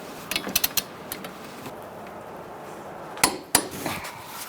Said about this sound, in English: you're going to torque the bottom one at 115 foot-pounds as well